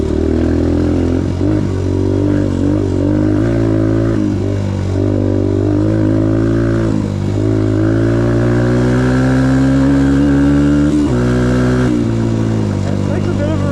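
A 2022 Suzuki DRZ125L dirt bike engine revs steadily and loud throughout, its pitch climbing and dipping with throttle changes and a brief rising surge near the end, while voices talk over it.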